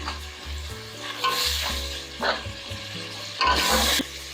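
Masala for egg biryani fries and sizzles in a pan while being stirred, with bursts of hissing and scraping close up over a low tonal hum, and no talking.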